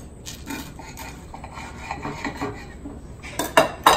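A knife saws through toasted bread topped with pimento cheese, soft rasping strokes building to a few louder crunchy cuts near the end, close and quiet.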